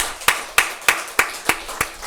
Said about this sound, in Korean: 주님께 우리 감사의 박수 한번 합시다